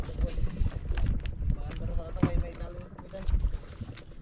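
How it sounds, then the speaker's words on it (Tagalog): A small boat moves over water with wind buffeting the microphone and a steady rumble with splashy bursts, while people talk over it. "Maliit na bangka ang sasakyan natin mga kamising."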